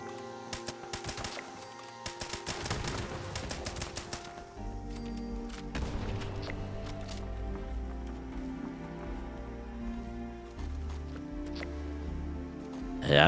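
Automatic rifle gunfire in the video game Fallout 76, rapid bursts of repeated shots over the first few seconds, followed by steady game ambience and music.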